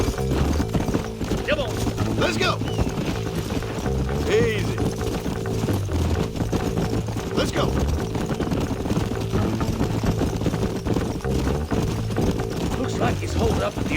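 Steady clip-clop of horse hooves in Red Dead Redemption runs throughout under a music bed, with a man calling out briefly over the galloping rhythm.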